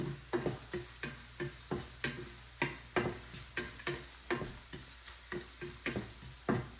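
Potato chevdo roasting in a pan, stirred in steady repeated scrapes and light taps against the metal, with a soft sizzle underneath, close and fairly quiet.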